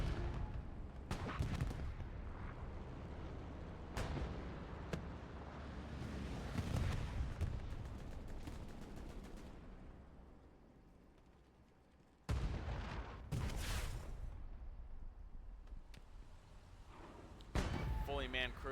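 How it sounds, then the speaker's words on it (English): Artillery blasts from a self-propelled gun in a multiplayer tank warfare game, several loud booming impacts with sharp onsets and long rumbling decays, mixed with other battle noise. "SPA is also returning fire on the Brumbar"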